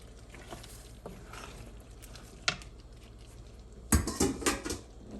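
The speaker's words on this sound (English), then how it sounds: "I'm just gonna stir this for another minute until everything comes together." Shrimp and pasta being stirred in a skillet for coconut curry shrimp pasta, with soft scraping and a few clattering knocks of a utensil against the pan, louder toward the end.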